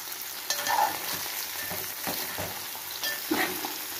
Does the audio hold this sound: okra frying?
yes